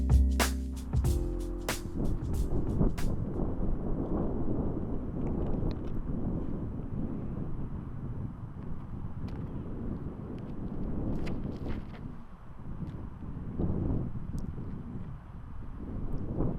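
Steady wind gusting across an open disc golf course during a final round, a continuous low rushing roar with a few sharp knocks near the start.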